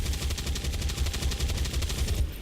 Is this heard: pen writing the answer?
no